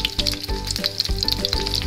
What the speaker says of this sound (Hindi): शैलो फ्राई हम इनको करेंगे